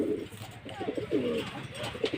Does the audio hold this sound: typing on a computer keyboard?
no